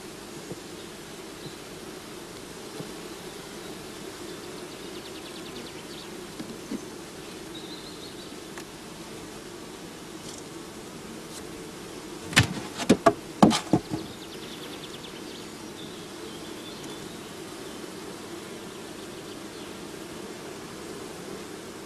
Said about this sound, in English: Shaken or brushed into the funnel, the bees fall into the swarm box underneath.